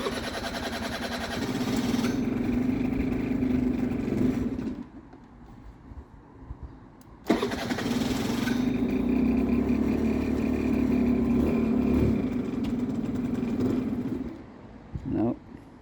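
A Hyosung Sense scooter engine, in poor condition and just fitted with a new fuel valve, cranks and runs in a droning idle, cuts out, then starts again and runs steadily, with people talking nearby.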